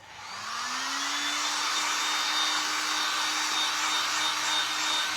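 A hair dryer blows steadily on Woodubend moulding material pressed onto a wooden cross. It starts with a rising whine, then settles into a loud, even, close rush of air for several seconds.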